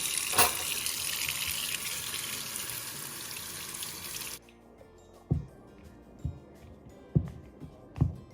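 Tap water runs steadily over small oranges for about four seconds, then stops, followed by a few sharp, close clunks and knocks as the wet fruit is handled.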